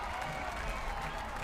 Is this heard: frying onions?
no